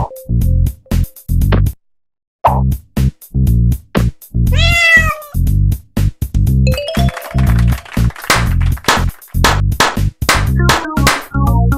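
A black cat meows once, clearly and close by, over a bouncy, rhythmic music track with chimes and plucked notes.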